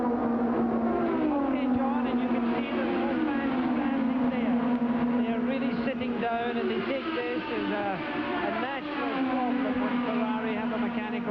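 Formula 1 race cars at the 1987 Italian Grand Prix give a continuous high engine whine that rises and falls as they lap, with a commentator talking over the racing.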